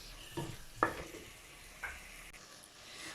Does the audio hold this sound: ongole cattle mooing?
no